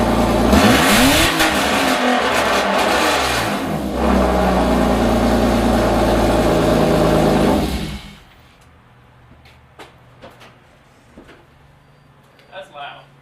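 A BMW E34 525i engine is revved hard and very loudly at close range, sweeping up and down several times before dropping off around eight seconds, followed by quiet handling sounds.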